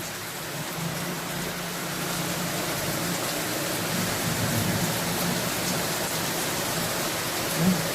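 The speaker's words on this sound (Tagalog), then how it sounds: "Napakalakas ng ulan." Heavy rain pours steadily with a dense, constant hiss, loud and unbroken throughout, with a faint low hum underneath.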